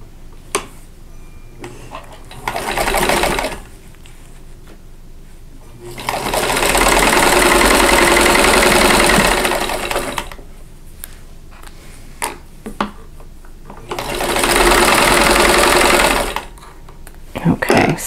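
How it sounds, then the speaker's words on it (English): A sewing machine stitches half square triangles together for a quilt block, sounding in two long, loud runs separated by quieter pauses with small handling clicks. "I'm going to start by sewing those half square triangles together"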